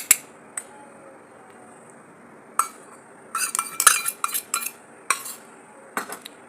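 Yogurt and fried onion being mixed in a pot for chicken dum biryani: scattered metallic clinks and scrapes of a spoon against the pot, sparse at first, then a denser run of stirring knocks, close and clear with no talking.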